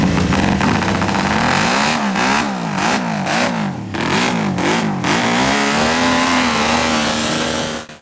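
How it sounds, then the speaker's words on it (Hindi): A loud MV Agusta racing motorcycle engine barks into life and revs repeatedly in sharp rising and falling bursts, then settles into a high, steady roar up close. "इन मोटरसाइकिलों में से एक को स्टार्ट करते हैं। इसकी आवाज को महसूस कीजिए।"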